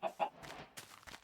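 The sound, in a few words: chicken clucking in a video game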